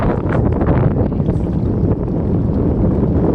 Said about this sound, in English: It's a little windy. Very windy.